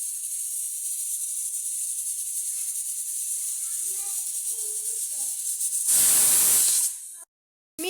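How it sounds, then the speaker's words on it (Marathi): Jaggery melting in a hot kadhai to make syrup gives a steady, close hiss and sizzle, with a louder burst of spray near the end before it cuts out. "तर मी याच्यामध्ये गूळ टाकून घेत आहे पाक करण्यासाठी"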